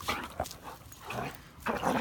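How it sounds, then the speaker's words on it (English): A dog makes playful grumbling, whiny vocal noises while standing over another dog in a field, several short bursts at close range. "if the dog is down, likes to stand over them and make all these noises"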